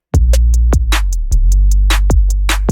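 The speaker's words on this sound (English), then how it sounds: "Even without any of my plugins, my 808 sounds like this." Booming 808 bass from the 808 Warfare plugin plays alone in a K-pop style beat session, with deep sustained low notes and sharp percussive hits repeating in a quick, punchy rhythm at loud level.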